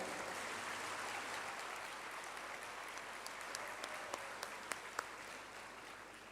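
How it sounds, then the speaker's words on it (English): An audience at a family planning conference opening ceremony applauds steadily, the clapping a dense wash that thins toward the end, with a few louder individual claps standing out. "I would like you to put a big round of applause for Oyeng"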